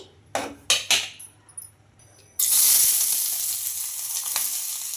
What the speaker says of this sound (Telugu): ఈ ఉల్లిపాయలు అయితే ఫ్రై చేసుకుందామండి